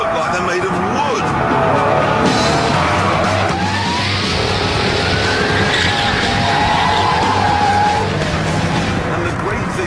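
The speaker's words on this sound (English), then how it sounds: "that's doing power slides at like 110 miles an hour" A Jaguar XKR power slides at high speed with its tires skidding. The engine roars and the tires squeal without a break, loud and close throughout.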